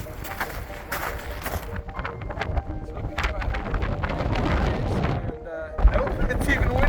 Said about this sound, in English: Nope, it's even windier.